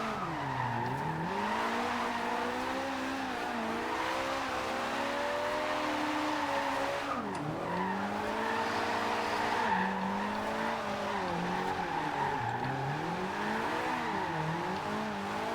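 A Toyota AE86 drifting in a racing video game, its engine revving and swooping up and down in pitch while tires squeal and skid continuously, loud and sustained throughout.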